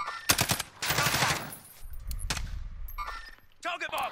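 Video game gunfire aimed at the player comes in several sharp bursts of rapid shots separated by short gaps, with a voice talking in between.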